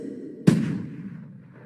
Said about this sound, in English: instead of a gunshot being heard in the game.